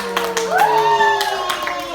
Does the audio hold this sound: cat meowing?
no